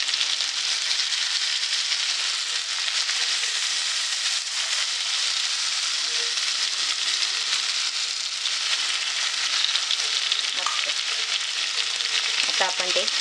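Squid (makla) sizzles steadily in a pan with kokum juice added, a dense, even frying hiss filling the whole stretch, with a few faint clinks near the end and no talk.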